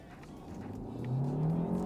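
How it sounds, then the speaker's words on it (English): A 2023 Kia Sportage hybrid SUV's 1.6 engine revs higher under acceleration in sport mode, its pitch climbing steadily as the whine grows louder and holds. "Whoa, you can really hear that engine. It really does hold on to those revs."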